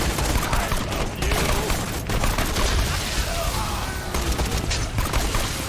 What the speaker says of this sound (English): That fucking grenade is nice.